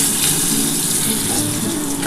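Potato pieces frying in a pan with turmeric and salt for a Bengali chicken curry, giving a steady, close, loud sizzle with no breaks and no talk.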